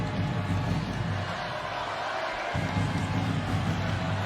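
Basketball arena crowd in the last minute of regulation, Texas vs Notre Dame, a steady loud roar of many voices that swells and holds throughout as people rise to their feet.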